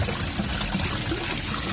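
Water trickles steadily from three spring-fed fountain faucets outdoors, a continuous close splashing and gurgling wash with no pauses.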